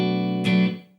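Clean electric guitar through a MOOER Preamp Live with a touch of reverb, a sustained chord ringing out, then a fresh strum that decays smoothly into a soft reverb tail.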